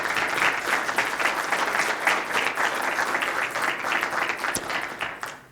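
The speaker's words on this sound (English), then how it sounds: "How about a little applause for these guys?" An audience at a community forum for city attorney candidates breaks into steady applause, dense overlapping clapping from a room full of people that holds evenly and then tapers off at the end.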